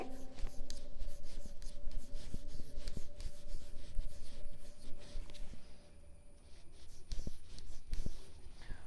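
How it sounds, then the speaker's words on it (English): A teacher writes letters on a classroom board with steady, rapid scratching strokes, close and continuous, with a brief quieter lull partway through. "I will write all these letters here."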